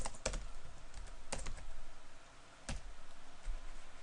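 A computer keyboard gives a few sparse, separated key taps, close but light, with quiet gaps between the strikes and no speech.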